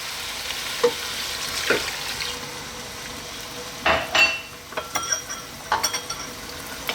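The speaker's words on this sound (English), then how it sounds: "Let's give that a nice little stir." A spoon stirs a lamb and potato stew with canned tomatoes and stock in a pot, making scraping, clinking strokes at irregular intervals over a steady background sizzle, close and fairly loud.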